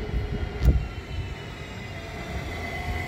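A distant train rumbles past in a low, steady drone through a snowy landscape in Germany, with a brief louder thump early on.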